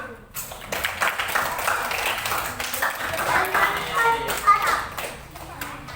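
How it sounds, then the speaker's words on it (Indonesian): Children clap in a classroom, a burst of dense, fairly close hand claps that carries on steadily for several seconds with no talk over it. "Baik, tepuk tangan nak."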